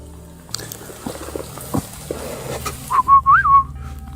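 In quiet woods at a campsite, soft rustles and thumps lead into a short, clear, rising-and-falling human whistle near the end, close and distinct.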